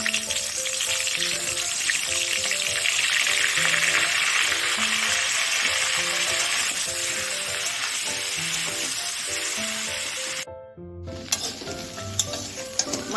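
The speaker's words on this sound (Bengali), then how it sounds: "তেল গরম হয়ে গেছে, মাছগুলো ভেজে নেব।" Giant freshwater prawns fry in hot mustard oil in a wok, a loud, steady sizzle filling the space close up for about ten seconds before a brief drop-out, then resuming with some clatter.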